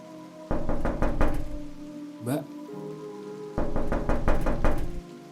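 Knocking on a shop door in the rain, heard as two clusters of several sharp raps, each a quick burst of four or five knocks, with steady rainfall hissing underneath.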